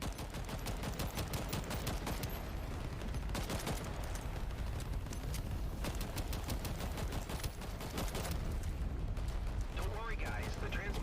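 Dense, continuous video game gunfire as a team all fires at the core, loud sustained bursts and explosions filling the whole stretch, with a voice speaking over it.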